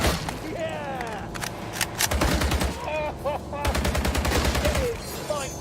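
Rapid machine-gun bursts from The Grand Tour video game rattle in dense, loud volleys, with a sustained stretch in the middle and another toward the end, while someone talks and exclaims over the gunfire.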